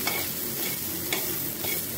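Okra (ladies fingers) dry-frying without oil in a pan on a low flame, a close continuous sizzle with light stirring scrapes.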